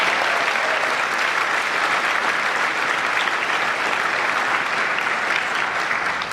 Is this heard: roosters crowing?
no